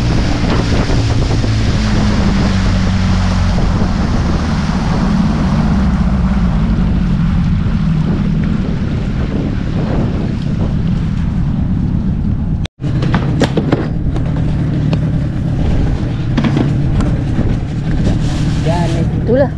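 Strong wind roars and buffets the microphone while a boat runs across open water toward a fishing raft at Teluk Sengat, Kota Tinggi; a loud, continuous rush with a brief break partway through.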